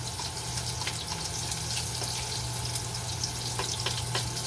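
Short ribs sizzle in a hot pan with a steady, gentle crackle and a low hum beneath it, occasional sharper pops rising through the continuous frying sound.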